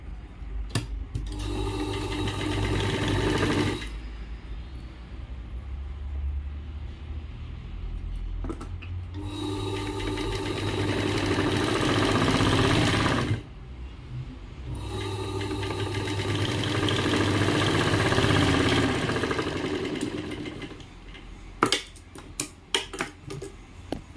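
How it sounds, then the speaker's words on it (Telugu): A sewing machine stitching the hook strip of a blouse runs in three long, loud bursts of rapid, steady mechanical whirring, separated by short pauses, with a few sharp clicks at the end. "రెండో కుట్టు కూడా ఇలానే వేసేసుకోవాలన్నమాట."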